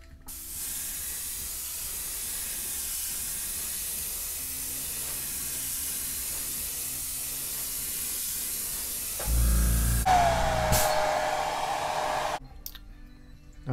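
An airbrush sprays Golden High Flow Titanium White acrylic onto a 7-inch rainbow trout glide bait, a steady close hiss running unbroken for about ten seconds, then a louder burst as it cuts off.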